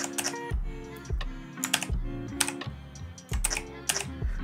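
Keys on a computer keyboard are pressed in quick irregular bursts of clicks, close and moderately loud, with brief pauses between groups of strokes during video editing.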